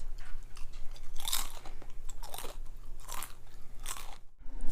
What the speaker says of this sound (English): ASMR crunching test.